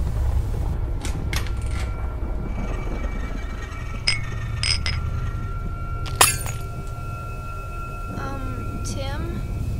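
Glass breaks in a stop-motion horror short, with a sharp crash and tinkling shards around the middle amid low background rumble and scattered clinks.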